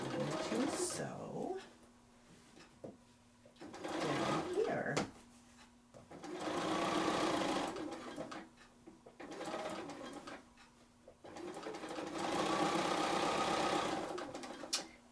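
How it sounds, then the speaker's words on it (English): Sewing machine stitching a quilted English garden table topper with a walking foot fitted, running in several sustained bursts separated by short pauses, with someone speaking between the runs. "I'm just going to leave my walking foot on"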